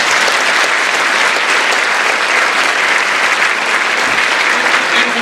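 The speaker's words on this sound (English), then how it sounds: "Let's give another round of applause for the candidates." A crowd at a candidate forum gives a round of applause: loud, sustained, dense clapping that fills the whole stretch without pause.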